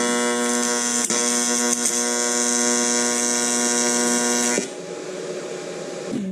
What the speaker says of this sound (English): We're welding and things.